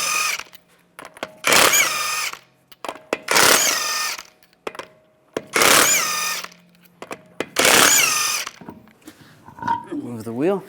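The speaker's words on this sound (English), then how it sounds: "use a 19mm socket, take the lug nuts off." An impact wrench spins 19mm lug nuts off the right front wheel of a 2011-2015 Chevrolet Cruze, four loud, separate whirring bursts with pauses between them and a short rattle at the end.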